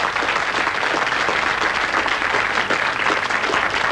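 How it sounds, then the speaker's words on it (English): A studio audience on a television quiz show applauds, a dense, even wash of many hands clapping that carries on loudly and continuously with no voices over it. "Give him a round of applause."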